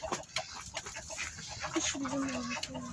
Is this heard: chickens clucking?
yes